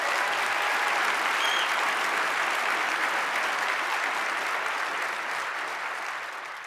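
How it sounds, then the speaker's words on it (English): A large keynote audience at an Atlassian conference applauds the Domino's team for a Team of the Year award, a dense, steady roar of clapping that holds throughout and slowly fades near the end. "So let's give Domino's a round of applause"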